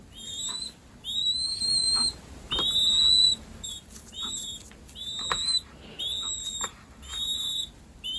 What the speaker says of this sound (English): You can probably hear he's starting to whistle again now.